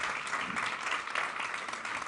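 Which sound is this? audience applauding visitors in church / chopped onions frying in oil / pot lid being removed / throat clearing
audience applauding visitors in church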